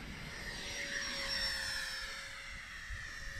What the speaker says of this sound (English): coming down the runway is the Habu STS.